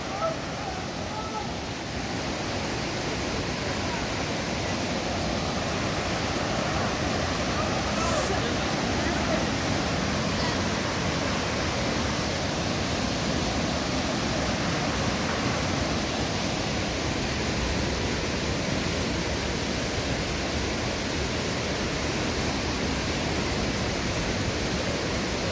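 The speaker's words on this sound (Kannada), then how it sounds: "So this is Abbey falls. ನೀರು ಮಾತ್ರ ಬಾಂಬ್ ಆಗಿದೆ." Abbe Falls waterfall roars in a steady, dense broadband rush throughout, constant and loud, with a faint voice briefly underneath near the start.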